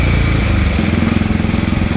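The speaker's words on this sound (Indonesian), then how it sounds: "Motornya cukup responsif dan galak untuk seri ini." A 1956 Norton ES2 antique motorcycle with a four-speed separate gearbox runs close by, its engine settling into a loud, even chain of rapid thumping pulses after a brief smoother start.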